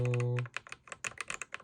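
Rapid keystrokes on a Wooting 80HE white zinc keyboard with Geon Raw switches and Glorious Polychroma RGB keycaps, a quick, close and fairly quiet clatter that follows a short steady electronic tone.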